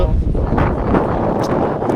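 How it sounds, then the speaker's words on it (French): Steady outdoor wind buffeting the microphone at a pétanque match in Carcassonne, a continuous broadband rumble with gusty low-end swells lasting throughout. "Toujours autant de vent ici."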